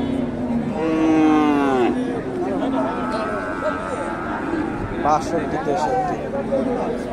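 At a bull market in Bogura, local bulls low once with a long, drawn-out moo amid a crowd where people talk and bargain almost continuously.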